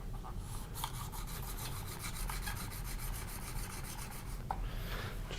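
A plane iron is honed on an extra fine sharpening stone, giving a steady, continuous scraping rasp of rapid back-and-forth strokes at close range with no talking.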